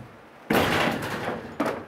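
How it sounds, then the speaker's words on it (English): A barn door swinging shut with a loud wooden bang, then a second softer knock a second later as it settles, with no talking. "Okay, close that door."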